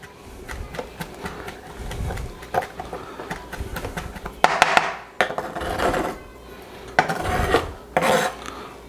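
Knife chopping fresh herb leaves on a board, likely for garlic and herb compound butter, giving a run of quick, uneven cuts and scrapes up close with a few sharper knocks.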